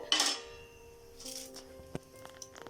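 Light metallic clinks and a soft clatter as a metal stand is set into an idli pot, with a brief knock partway through.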